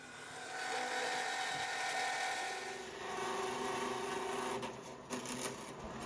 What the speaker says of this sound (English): the rest I'm going to do in the bandsaw.